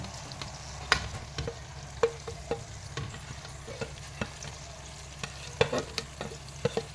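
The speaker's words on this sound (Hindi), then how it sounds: "अभी मैं ये इसमें मटन डाल रही हूँ।" Mutton frying in a pan over a slow flame for Hyderabadi tala hua gosht, a steady low sizzle broken by irregular sharp clinks and scrapes of stirring, close and moderately quiet with no talk.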